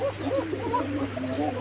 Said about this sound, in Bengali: এই হচ্ছে সামনে এই কোকা নটটা, মাশাআল্লাহ ভালোই ডাকে